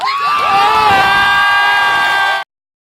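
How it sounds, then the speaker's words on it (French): A crowd cheers and shouts loudly, with high whoops and yells rising together, then the noise cuts off abruptly. "Mais avant ça, faites du bruit pour Space"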